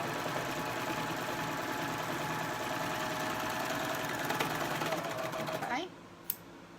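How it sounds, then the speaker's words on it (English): A serger sewing machine stitching a quilt block seam runs in a continuous fast mechanical whir, loud and close, then stops abruptly near the end, leaving a quieter background and one small click. "now I'm just going to sew the seam"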